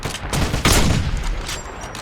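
Rapid bursts of gunfire from the video game Wolfenstein (2009), loud and close, overlapping shots in a dense fusillade over about two seconds with no talk.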